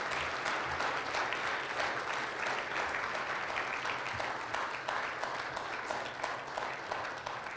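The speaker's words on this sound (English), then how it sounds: "Let's go ahead and have a round of applause" Audience applause closing an afternoon session of a talk, dense sustained clapping from a room full of people, even and steady throughout.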